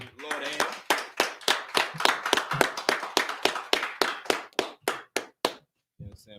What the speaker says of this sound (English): Clap it up. Give it a hand.